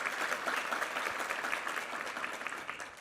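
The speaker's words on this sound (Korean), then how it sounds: "우리 지효원 형제한테 한번 우리 격려 박수 한번 부탁합니다" A church congregation at a Sunday worship service applauds a baritone after his hymn, with steady, dense clapping that stays loud and even throughout before easing slightly at the end.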